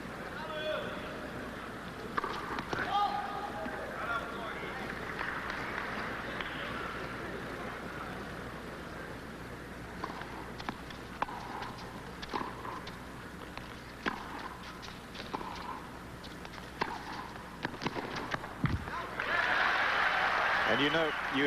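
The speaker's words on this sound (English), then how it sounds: "you heard the crowd have their say to Jimmy Connors" Tennis crowd at the 1987 Nabisco Masters, Gilbert versus Connors, applauding and cheering as a steady wash of clapping, swelling louder near the end beneath a commentator's ongoing talk.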